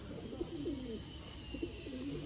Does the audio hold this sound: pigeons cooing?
yes